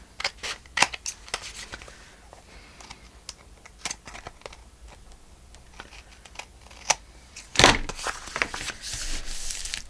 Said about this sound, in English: Trim off what doesn't belong.